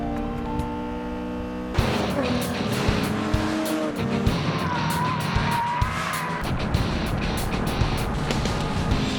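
Mustang race cars roar around Ridge Motorsports Park, engines droning loud and close with rising and falling revs, tires squealing and skidding through corners amid a dense wash of track noise.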